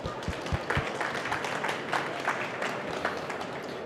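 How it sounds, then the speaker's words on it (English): Conference audience applauding at a talk on AI and visitor behaviour: steady, moderately loud crowd clapping with a few sharper individual claps near the start, sustained evenly across the whole stretch. "So if you can give a round of applause,"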